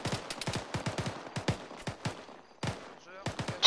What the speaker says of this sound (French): C'est de la lourde, je sais pas ce qui tire, mais c'est lourd